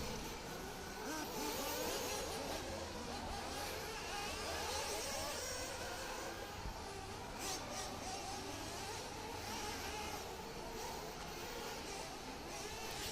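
Nitro RC buggies racing around a championship track, a continuous buzzing whine of small engines rising and falling as cars pass, fairly even loudness throughout with faint crowd background.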